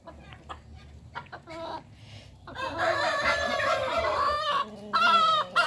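Hens cluck in short scattered calls inside a coop, then a rooster crows loudly and other birds join in a busy, overlapping chorus of clucks and crows nearby.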